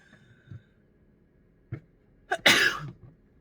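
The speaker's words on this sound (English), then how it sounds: "When I sneeze when I'm channeling" One sneeze bursts out loud and close near the end, a short intake followed by a sharp explosive blast. Faint clicks and a brief cough-like sound come before it in an otherwise quiet room.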